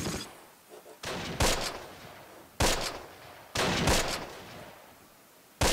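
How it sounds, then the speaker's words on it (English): Battle sounds from the war video game Close Combat The Longest Day: several sharp bursts of gunfire and mortar blasts, loud and spaced out, each rumbling and decaying before the next. "There's some mortar."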